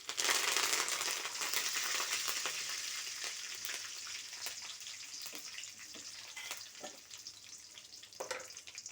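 Curry leaves hit hot tempering oil already holding chana dal, mustard seeds, dried red chilli and garlic, bursting into a loud, close sizzle that slowly settles into a steady crackling fry with scattered pops.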